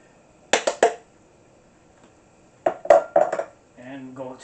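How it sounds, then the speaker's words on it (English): Carrots tumbling into a beef stew pot: a few quick clunks and clatters near the start, another cluster of knocks and splashes later, with a person talking at the end. "And I'm going to add the carrots right now."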